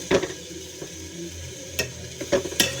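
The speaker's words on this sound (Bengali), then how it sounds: "ভালোভাবে নেড়ে দিচ্ছি" Water spinach (kalmi greens) stirred in a pan, giving a few sharp scrapes and clinks of the utensil against the pan over a soft sizzle, with short quiet gaps between strokes.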